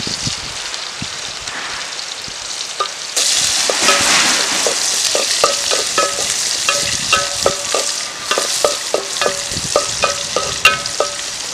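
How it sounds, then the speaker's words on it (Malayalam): Garlic and shallots fry in oil in a pan for a Kerala-style payar thoran, a steady close sizzle that jumps louder a few seconds in, with repeated sharp taps and scrapes of a spoon stirring against the pan. "വെളുത്തുള്ളി ചുവന്നുള്ളി കൂടെ നമുക്ക് മൂപ്പിക്കാം."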